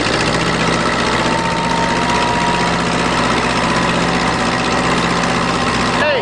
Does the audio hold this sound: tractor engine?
yes